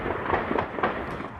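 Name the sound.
exchange of gunfire during police assault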